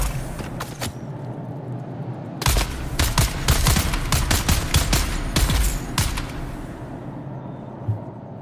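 Video game gunfire, a rapid string of sharp shots in clustered bursts over steady background game noise, fading out toward the end.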